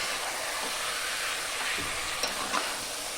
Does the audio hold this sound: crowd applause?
no